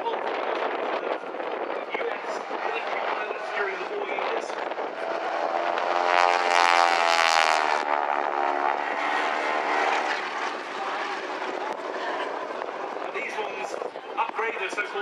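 A Stearman 75 biplane with a 450 horsepower Pratt & Whitney radial engine flies past at an airshow, its propeller drone swelling and fading as it passes overhead beneath a public-address voice.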